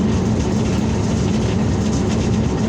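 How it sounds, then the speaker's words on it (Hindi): Hazara Express passenger train arriving at platform 7 of a station in the morning, a steady loud broadband rumble and rolling roar with no clear clacks, continuous throughout. "ये प्लेटफार्म नंबर 7 पर हज़ारा एक्सप्रेस पहुंची है"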